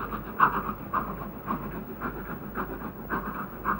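A running train gives a steady rumble with a repeating clickety-clack beat of wheels over rail joints, close and even throughout with no voices.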